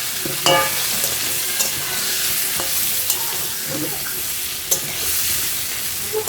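Sliced pointed gourd sizzling in oil in a pan, seasoned with salt and turmeric, a steady crackling hiss punctuated by sharp clicks and scrapes of a spatula stirring.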